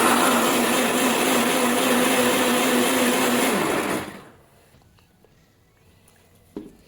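A kitchen blender grinds ginger into paste with a loud, steady whirring drone for about four seconds, then cuts off, leaving near-silence broken by a small clatter at the end.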